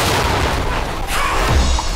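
Explosions during an action scene in the 2022 film The Lost City, a loud, sustained roar of booming blasts and rumbling debris filling the whole stretch with dense noise and a deep low-end surge near the end.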